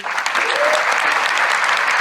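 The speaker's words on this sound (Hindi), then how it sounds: "आप सबकी तरफ से भी तालियां चाहूंगा गुरुदेव रामकृष्ण सर के लिए" An audience applauds for a guru at an achievement ceremony: dense, steady clapping from a crowd throughout, loud and close, with a faint voice briefly under it.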